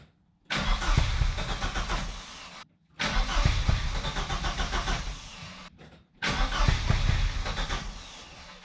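A Vauxhall Cavalier with older spark plugs is cranked and fired three times. Each attempt makes a loud, rough engine roar lasting two to three seconds, with brief silent gaps between the starts.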